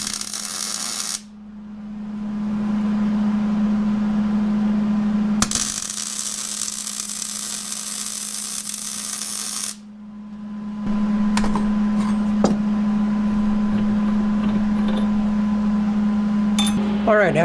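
Welder fusing a nut onto a steel farmers walk handle, held square by a bolt and magnet: two long steady buzzing arc runs of several seconds each, loud and close, separated by brief breaks, with a faint hum throughout.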